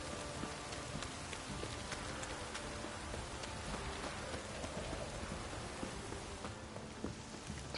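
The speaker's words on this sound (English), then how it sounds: "This downpour's a bastard" Steady rain patters continuously on a surface in Witcher 3: Wild Hunt, a soft, even wash of drops with faint scattered taps, no voices.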